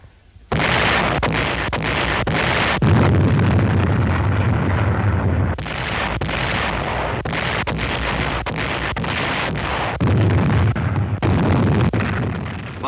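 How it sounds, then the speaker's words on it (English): Artillery bombardment of the Corregidor island fortress in 1942, a continuous loud roar of blasts and rumbling detonations that swells in several heavy bursts, with no voices. "the Japanese bombarded the island fortress with every weapon at their command"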